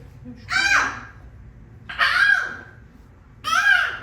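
A human voice imitates a seagull cry three times, each loud, rising and falling call separated by short pauses over a faint low background hum.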